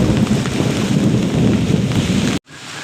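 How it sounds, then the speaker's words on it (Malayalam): Heavy evening rain pours down in a dense, steady roar with a low rumbling undertone, then cuts off abruptly near the end, leaving faint background sound. "നിങ്ങളെ നാട്ടിലേക്ക് മഴയുണ്ടോ ഇടി വെട്ടുന്നത് കണ്ടോ"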